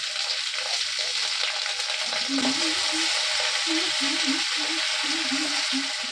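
Cabbage and capsicum fry in a pan with a steady hiss of sizzling oil, broken by repeated scraping and stirring knocks near the end, with no talking.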